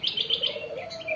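Caged doves (tekukur, perkutut, derkuku, puter) set out to sun give a run of quick, bright chirps, repeating about every tenth of a second, close and fairly loud over a softer sustained tone.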